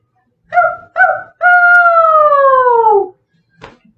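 A person imitates a werewolf howl with their voice: two short yelps, then one long, loud, wavering howl that slowly falls in pitch, followed by a faint breath.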